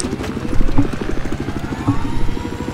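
Helicopter in the Battlefield 4 video game, its rotor chopping in a fast steady beat, loud and close, continuous throughout with no talk over it.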